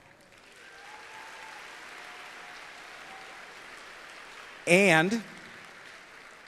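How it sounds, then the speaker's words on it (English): Arena crowd at a FIRST robotics state championship claps steadily in a broad, moderate wash of applause, with a short loud voice burst near the end. "let's give a big round of applause to Magna"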